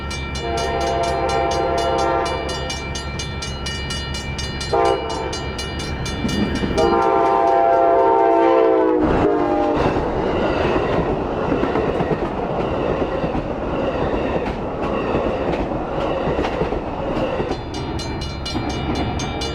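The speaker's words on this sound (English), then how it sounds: "The northbound and southbound Amtrak Salukis met in the Champaign yard, and the southbound was up next." Southbound Amtrak Saluki passenger train rolling through the Champaign yard, a loud sustained horn blast up front giving way to the steady clatter and rumble of passing railcars close by.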